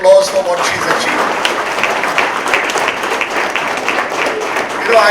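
An audience at a book launch claps steadily, a dense, loud round of applause lasting throughout, with a voice faintly audible near the start.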